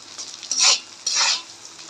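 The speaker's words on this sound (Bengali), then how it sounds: "ডালটা একটু ভেজে নিলাম।" Lentils frying in a pot, stirred in two distinct bursts of loud scraping sizzle about half a second apart, with a quieter hiss between them.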